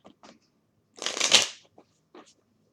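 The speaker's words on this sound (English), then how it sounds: "I'm just shuffling these cards a little bit" A deck of tarot cards is shuffled in one soft, quick riffling burst, framed by faint taps and handling sounds in a quiet room.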